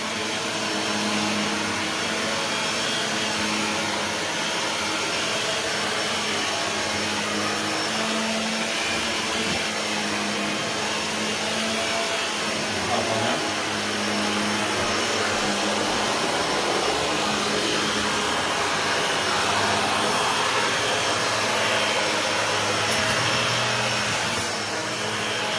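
A Shark Lift-Away ZU560 upright vacuum cleaner with self-cleaning brushroll runs continuously at a loud, steady motor whine and airflow roar, close by and with no talking.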